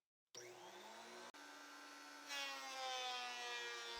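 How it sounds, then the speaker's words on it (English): A thickness planer feeds wood pieces through its cutterhead with a loud, steady motorized whine, briefly cutting out and restarting, then growing harsher and louder as the board engages the blades. "everything goes through the thickness planer to make the dimensions consistent"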